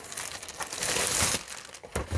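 A plastic bag holding a Sega Mega Drive console crinkles loudly and close up during unpacking, with a continuous rustling that swells and fades in short bursts.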